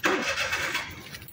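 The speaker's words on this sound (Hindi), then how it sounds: "अभी गाड़ी स्टार्ट करने लगा हूँ।" A car engine turns over and catches in a quick, loud burst of cranking and roaring, then settles into a rough rumble nearby. The car's silencer is being cleaned.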